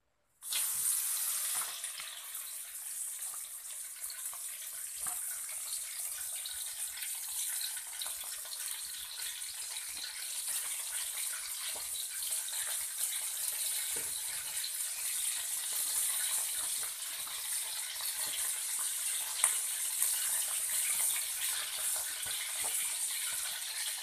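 Grasshoppers with wings removed, washed, then dropped into hot oil in a wok, giving a steady, dense sizzle and hiss that holds at even loudness throughout with small crackles, no talk.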